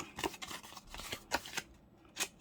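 Scissors snip through paper in a papercraft project making a passport card pocket, a few quick close cuts separated by short rustling pauses.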